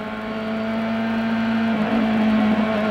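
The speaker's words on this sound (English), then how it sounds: "We ride with Gilles de Ferran as he takes a gear, listening for perhaps a sour engine note." Onboard a CART race car driven by Gilles de Ferran at Michigan Speedway in the 1997 U.S. 500, the engine holds a loud, steady, buzzing drone that rises slightly toward the end.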